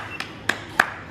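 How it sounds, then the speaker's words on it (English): A few people clap slowly in a garage, four sparse, separate claps spaced evenly and heard close. "We should have a little round of applause for them plugs."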